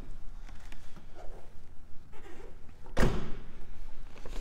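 Trunk of a 2019 Dodge Charger SXT AWD popping open with a single sharp thunk near the end, after a stretch of quiet shuffling nearby.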